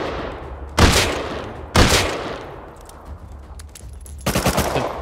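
Gunfire in the video game Rust: three loud bursts of shots, two single sharp blasts about a second apart followed later by a rapid rattling volley, over low game ambience with no talk.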